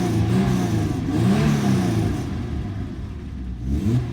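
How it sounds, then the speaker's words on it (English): A Fiat 130 Coupe's V6 engine revs in repeated rising and falling blips, a raspy mid-pitched snarl that stays close and fairly loud throughout. "Lovely rasps that you get on the V6, similar to a Ferrari Dino engine."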